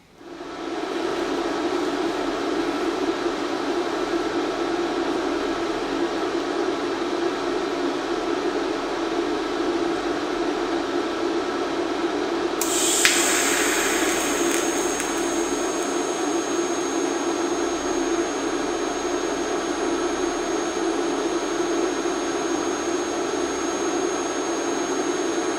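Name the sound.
tack welding a pipe flange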